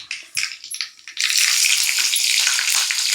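Four green chillies sizzling loudly in hot oil in a pan while cooking a prawn curry, a crackling hiss that jumps to a steady, dense sizzle and fills the whole clip.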